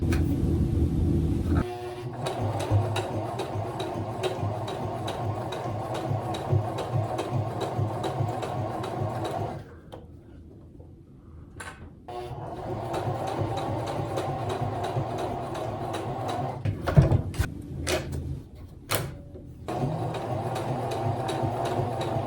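A sewing machine runs with a steady mechanical whir and rumble, stops briefly near the middle, then starts stitching again with a few sharp clicks.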